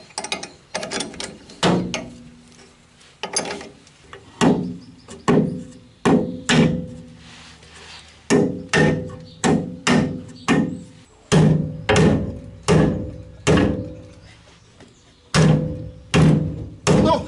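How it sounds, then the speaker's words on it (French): A homemade wooden pressing tool is tightened to push a torsion bar into the rear axle of a Citroën Traction 11B, producing a series of sharp clunks and ratcheting knocks in an irregular, then steadier rhythm, close and alone. "je vais serrer cet outil."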